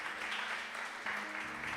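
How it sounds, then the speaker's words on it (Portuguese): A church congregation applauding during a sermon, sustained, dense clapping that fills the room, slightly distant and moderately loud, with a brief shift in texture midway. "Quem pode aplaudir ao Senhor?"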